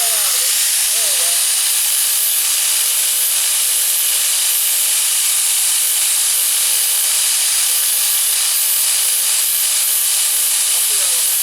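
Flux core welding on a rocker panel patch of a 1998 Ford Ranger 4x4 gives a loud, continuous crackling hiss, close and unbroken throughout, with a faint tonal whine early on.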